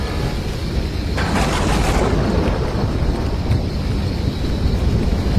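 A thunderstorm rumbles with rain and gusting wind, a loud roll of thunder swelling early then a continuous stormy wash, no voices.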